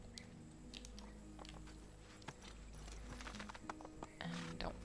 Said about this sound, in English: let's go get our horse again